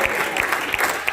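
A church congregation at a seminar breaks into brisk, dense applause, many hands clapping together in a loud, steady burst within an indoor hall.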